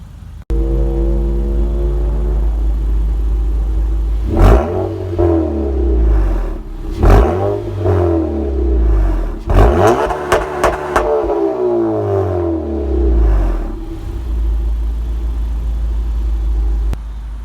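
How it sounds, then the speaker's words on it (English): A 2013 Honda Accord Coupe's exhaust revs in several distinct rising and falling bursts over a steady idle rumble, loud and close, with no talking. "I'll go ahead and rev the exhaust just a little bit"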